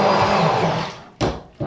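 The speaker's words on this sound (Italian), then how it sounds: "Sto frullando col frullatore immersione." An immersion blender whirs steadily for over a second, then cuts off and pulses twice in short bursts, loud and close.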